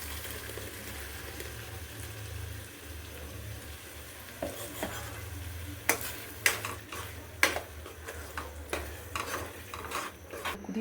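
Spinach puree being poured into a pan of cooked tomato and onion for palak paneer, followed by a spoon stirring. A low, steady sizzle runs underneath while sharp scraping knocks come in a loose rhythm.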